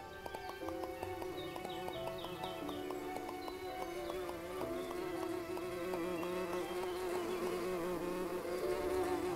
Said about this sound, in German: Bienen sind sehr nützliche Insekten.